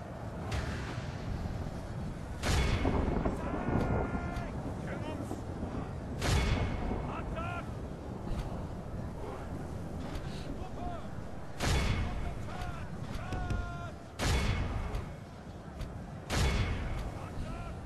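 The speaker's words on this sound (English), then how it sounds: "Once the cannons got in order and fire into there, we should be able to just completely destroy them over there." Cannon volleys boom repeatedly across a battlefield in the game Medieval 2 Call of Warhammer, with heavy blasts every few seconds over a constant din of fighting, and someone talks over the action.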